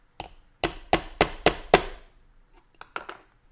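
A WW1 helmet liner is struck with a hammer in six sharp, evenly spaced blows, followed after a pause by a few lighter, quicker taps, close and clear with no talking.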